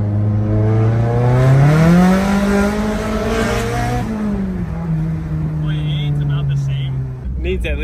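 On a road test drive, a turbocharged car accelerates loudly up close as its engine note climbs steadily, then eases off and settles into a lower, steady drone.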